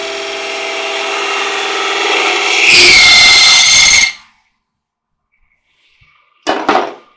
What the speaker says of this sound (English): Got a 3/8 spindle gouge